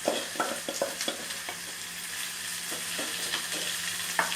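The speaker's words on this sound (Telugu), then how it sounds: "ఉల్లిపాయ పేస్ట్ కూడా వేగిన తర్వాత మనం ఉడికించి పెట్టుకున్నటువంటి చికెన్ పీసెస్ని వేయాలి" Chicken pieces fry and get stirred into onion paste in a pan for a Naatu kodi fry, a steady sizzle broken by repeated spoon scrapes and stirs close by, with no talking.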